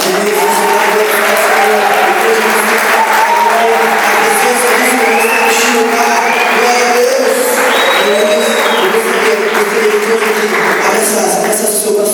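A church congregation applauds and cheers in praise during a lively service, with loud, continuous clapping mixed with shouts and whoops and a crowd's sustained roar filling the room.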